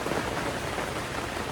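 Steady rain drums on the fabric roof of a Vevor gazebo tent at a campsite, a dense, continuous wash of close patter with no pauses and no voices.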